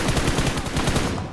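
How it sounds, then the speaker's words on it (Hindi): Rapid automatic gunfire from the BGMI (Battlegrounds Mobile India) mobile game, a dense loud stream of shots filling the whole moment with no pauses and no talking. "गोली चलती है, मेरे टीममेट को दे दिया नॉक"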